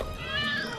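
A cat gives a drawn-out, wavering meow, fairly clear and close over faint background noise, with no speech.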